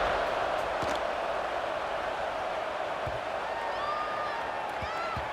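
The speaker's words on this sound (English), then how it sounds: "this crowd is buzzing after that last score" Stadium crowd at a Colorado vs Texas Tech college football game, a steady loud buzzing roar filling the whole span, with scattered faint whistles and thumps rising above it.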